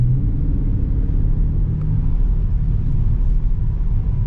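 A widebody Dodge Charger Scat Pack drives along, its engine giving off a steady, heavy low rumble that stays loud and constant from start to finish, with no voices over it.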